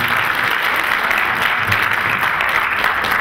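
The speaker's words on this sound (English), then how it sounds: "Give them a round of applause." A dense burst of audience applause, many hands clapping steadily and loudly throughout.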